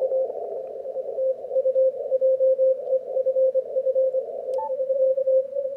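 Radio receiver audio with DSP noise reduction switched on, a steady sidetone-like carrier tone holding continuously with a brief higher chirp near the end, clean and alone with no talk.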